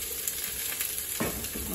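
Onion and cauliflower stir-frying in a pan, a steady close sizzle with a couple of louder scraping stirs near the end, no voices.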